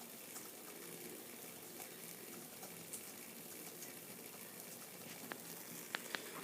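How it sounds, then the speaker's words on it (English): Water in a pot on a small homemade can alcohol stove, a low, steady bubbling simmer short of a rolling boil with a faint watery hiss, quiet and continuous, broken by a few small clicks near the end. "Boiling, but it's not really what I'd call a rolling boil."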